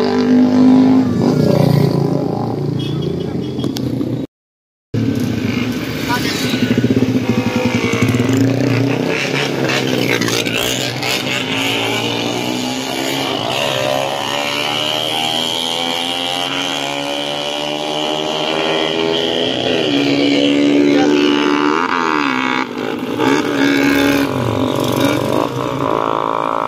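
Motorcycle engines rev loudly and close by during New Year celebrations, rising and falling in repeated throttle bursts with a brief gap partway through, the roar sustained almost throughout.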